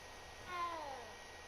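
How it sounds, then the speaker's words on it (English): A tabby cat in the video game Hogwarts Legacy gives a single soft, rising-then-falling meow lasting about half a second, quiet and close over a steady low ambient hum. "Oh, it's a kitty cat!"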